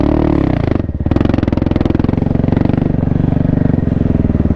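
A 2024 Kawasaki KLX300R dirt bike engine revs hard up close during cross-country riding, a loud rapid pulsing drone that dips briefly, then climbs and holds a steady throttle.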